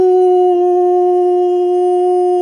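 A single sustained wolf howl sound effect, a loud steady tone held without a break and rich in overtones, with nothing else around it.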